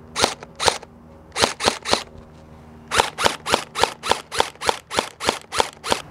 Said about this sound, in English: Basically what it's gonna do is show you what these high-end gel blasters will do to like cheap gelettes